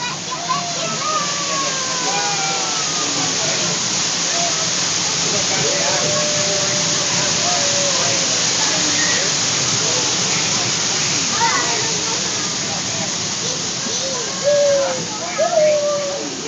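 A waterfall at a zoo pours in a steady, loud rushing wash that fills the whole stretch, with voices talking over it.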